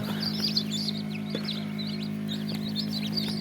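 Tiger breed chicks chirping, with many high, rapid peeps repeating over a steady low mechanical hum from an incubator.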